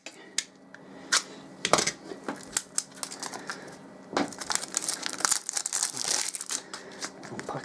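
Crinkling and tearing of plastic and paper packaging as a boxed DragonFly 2206 2800kv brushless motor is opened, in close, irregular bursts of rustling and snapping with short pauses between.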